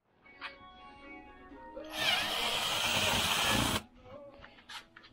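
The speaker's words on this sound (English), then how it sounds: "You get a bigger drill bit." A power drill boring a larger hole with a bigger bit in a working garage during speaker and tray installation on a 1974 Dodge Charger: a steady, loud whirring burst lasting under two seconds, set against quieter shop noise.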